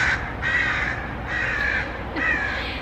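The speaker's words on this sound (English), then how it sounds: "Crow, go away! Noisy crows." Crows cawing loudly near a wildfire base camp, three long harsh calls in steady succession with short gaps between them.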